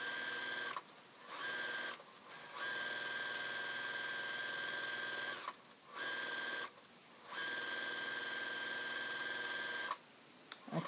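A sewing machine stitches slowly in runs, guiding along the presser foot edge while thread sketching, its steady whirring motor broken by four short pauses, close and fairly loud.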